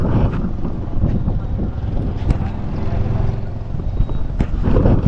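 Strong southwest monsoon wind buffeting the microphone near a boat by the shore, a loud continuous low rumble with gusty swells and occasional thumps throughout.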